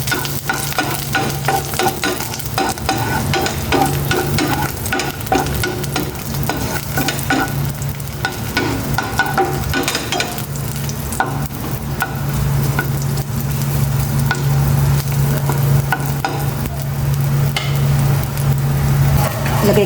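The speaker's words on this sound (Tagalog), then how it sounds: "Magisa na ako ng bawang." Garlic sizzling as it is sautéed in a pan on a home stove, steady frying hiss and stirring scrapes running throughout, with a low hum in the background.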